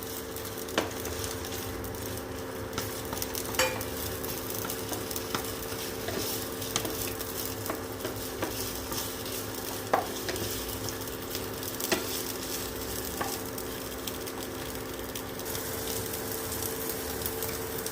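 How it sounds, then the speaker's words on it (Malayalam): Chopped chicken sausages fry in oil in a pan with a steady crackling sizzle, broken by regular clicks and scrapes of stirring, close and clear with no voices. "അതിനകത്തേക്ക് നമ്മുടെ സോസേജസ് അരിഞ്ഞത് ചേർത്ത് ഒന്ന് ഫ്രൈ ചെയ്തെടുക്കാം."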